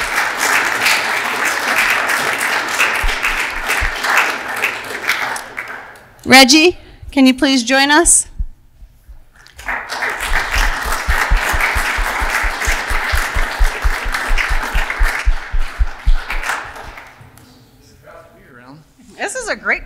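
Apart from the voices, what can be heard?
applause for the town commissioners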